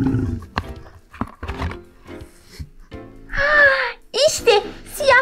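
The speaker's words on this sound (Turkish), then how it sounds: "Bu bir aslan." A deep, growling big-cat roar, seemingly from a toy or recording, followed by some higher animal calls, with a voice and talk earlier.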